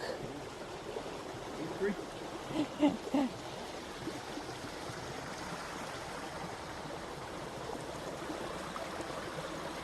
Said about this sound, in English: but we call it a creek. Unless you're somewhere highfalutin and it's a brook.